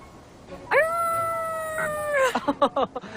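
A voice imitates a wolf howling at the moon: one long, rising, sustained howl, followed by a run of short, choppy vocal yelps, close and loud.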